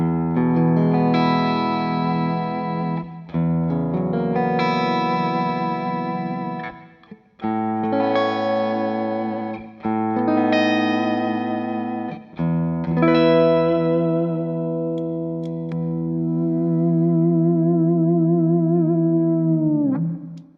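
Schecter Synyster Gates Custom-6 TR-S headless electric guitar on its in-between pickup position, strummed chords ringing with chorus-like effects and slight distortion, several phrases separated by brief pauses, close and alone without talk.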